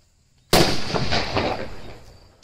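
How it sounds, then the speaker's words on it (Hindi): A single loud Diwali firecracker bomb blast bursts out suddenly after a moment of quiet, then crackles and rumbles as it slowly fades away. "अब लगाते हैं भाई एक बार सुपर बुलट बम के अंदर आग और देखते हैं कैसा धमाका करता है।"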